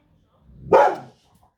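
A female dog gives one short, sharp bark indoors, reacting to noise outside through an open window; it sounds close, with quiet around it.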